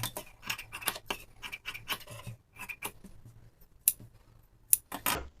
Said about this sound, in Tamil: கரெக்டாக வந்து கட் பண்ணிக்கணும்.